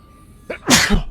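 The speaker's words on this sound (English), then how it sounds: "I'm gonna sneeze." A single sharp sneeze erupts after a brief inhaled build-up, close and fairly loud, with no talking, over Subnautica game audio.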